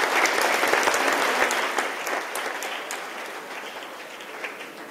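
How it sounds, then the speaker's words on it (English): Audience applause at an award celebration for an award-winning team, with a dense, close burst of clapping that gradually tapers off over several seconds. "let's give them a round of applause."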